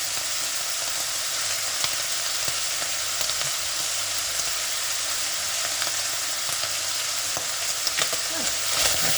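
Beef mince and tomato puree sizzle steadily in a frying pan while being stirred, a loud continuous fry with occasional scraping clicks and no talking.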